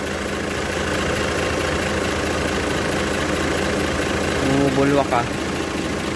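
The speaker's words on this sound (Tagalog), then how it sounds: "Alright, ito yung makina, 6UZ1." An Isuzu 6UZ1 diesel engine in a Japan-surplus 12-wheeler wing van truck idles with a steady low rumble and vibration, while someone talks close by and a brief tonal sound rises near the end.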